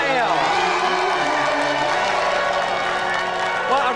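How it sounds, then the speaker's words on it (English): A studio audience at a video-game TV show claps and cheers for two special guests, a busy crowd noise with whoops, mixed with voices over it. "So let's another round of applause for our two special guests, Vicky Taylor and Donna Hale."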